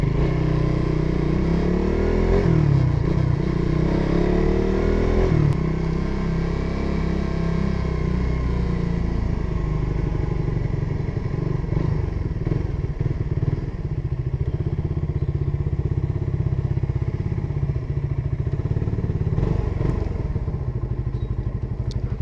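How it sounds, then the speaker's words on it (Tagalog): A motorcycle engine runs loud and close throughout, with a rev rising and falling early on, then a steady drone with occasional clatter and thumps as it rides over rough ground, with no talking. "Sasayad na naman yung motor ko dito."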